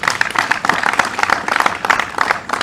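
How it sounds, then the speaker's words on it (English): A crowd at a political speech by Kalonzo Musyoka claps and applauds steadily, a loud, dense patter of many hands filling the whole stretch without a break. "So we applaud our young leaders"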